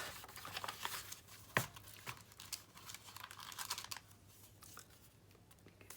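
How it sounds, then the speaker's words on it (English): Glued paper pages of a small handmade Christmas journal being folded and pressed together, with quiet crinkling, rustling and tapping paper sounds and one sharp crease snap near the start. "fold it all up."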